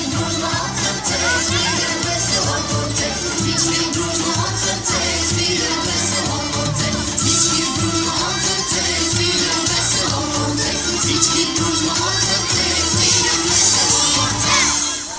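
A crowd at a folk gathering in a stage setting, a sustained wash of noise and cheering with possible applause, steady and loud throughout with no clear pauses.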